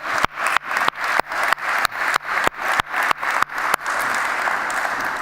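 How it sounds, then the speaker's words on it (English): An audience in a festival hall applauds its panelists, beginning with a series of evenly spaced rhythmic claps in unison before dissolving into a steady, full wash of applause. "Please help me and give them a great applause."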